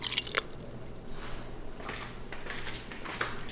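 Kimchi tipped into a pot along with its juice makes a wet, squishy slop and a few sharp clicks at first, then a soft liquid spread under a low background hum.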